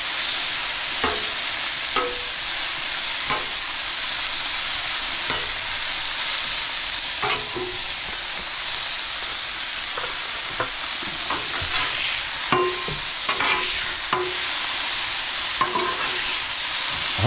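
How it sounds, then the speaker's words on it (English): Andouille sausage and chicken sizzle steadily on a Blackstone griddle at a campsite while jambalaya is cooked, a loud continuous frying hiss broken by repeated scraping stirs of a spatula across the flat-top, with no talking. "Listen to the sizzle."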